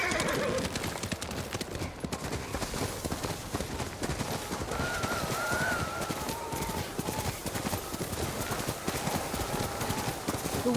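Horse hooves clip-clop steadily at a trot in the snowy landscape of the video game Ghost of Tsushima, joined by occasional whinnies and an ever-present layer of game music and ambience.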